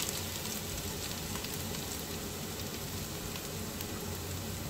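Chopped ginger fried in a non-stick pan for mutton curry, a steady, even sizzle with faint crackles, continuous and close, with no voice.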